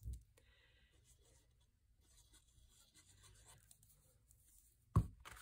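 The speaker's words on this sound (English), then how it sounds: "So I'm just placing my adhesive on these flaps" Adhesive goes onto the paper flaps of a handmade card in soft, close rubbing and scratchy strokes, faint and intermittent, ending in a single sharp tap.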